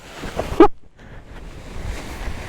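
Steady, broadband wind rushing past the microphone at a paragliding site, with a brief louder gust buffeting early on, then continuous blustery noise.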